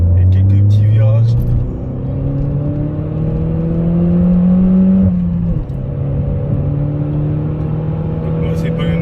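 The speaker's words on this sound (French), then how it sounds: "Là c'est parti, petite accélération et quelques petits virages." A Peugeot 208 GT accelerates and takes a few bends, its engine note climbing steadily from a low drone, heard loud from inside the cabin under road rumble.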